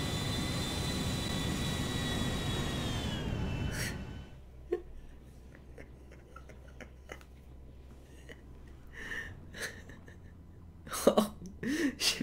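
Air France airliner in a flight video game roars with steady engine noise, then cuts out abruptly, leaving faint clicks and a few sharp gasps near the end.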